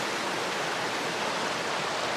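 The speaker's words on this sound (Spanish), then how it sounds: "el río lindísimo la corriente como va hablando como diferentes cascadas, pequeñitas" A river current in the Smoky Mountains tumbles over a series of small cascades, producing a steady, even rush of water that holds constant from start to finish with no voices.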